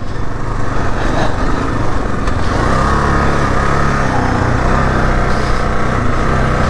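A 2022 Kawasaki KLR 650 motorcycle engine runs in a garage on a cold day, near 36 degrees F, with a Thermo-Bob fitted. The steady, loud, buzzing drone stays close throughout with no talk.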